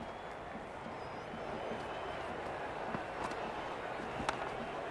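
Stadium crowd in a cricket video game at an IPL-style Lucknow Super Giants vs Chennai Super Kings match, a steady distant crowd roar at low level with a slight swell partway through.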